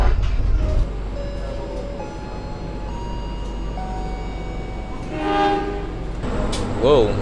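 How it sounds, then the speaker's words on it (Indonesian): A train at Semarang Tawang station rumbles at low level with a steady mechanical hum, and a horn sounds twice near the end over the station's background noise. "Wow, ini kereta apa ya?"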